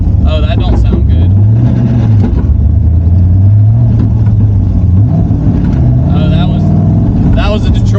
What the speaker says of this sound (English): that was a Detroit locker not catching